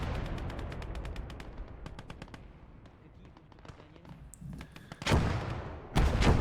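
Anti-tank grenades exploding on a vehicle in Call to Arms – Gates of Hell: Ostfront, with scattered rifle and machine-gun fire throughout, then two loud, close blasts near the end.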